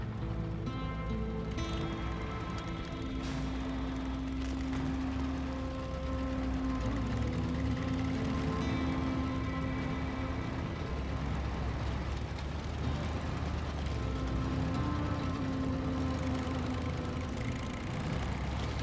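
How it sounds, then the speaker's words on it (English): A truck engine in the SnowRunner video game starts and then runs steadily at idle, with a continuous low rumble and a faint whine throughout, loud and close with no talking. "I'm gonna start its engine so it can help me."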